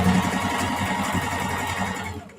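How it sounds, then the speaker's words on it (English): A sewing machine top stitching a denim tote bag hums fast and steady, a continuous close-up whir with a rapid mechanical chatter, running without pause until it fades slightly at the very end. "I'm just top stitching right now"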